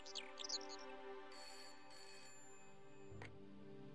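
A telephone rings in the Broken Sword point-and-click adventure game: a steady electronic ringing tone with a soft musical backdrop, then a brief clunk near the end as the receiver is picked up.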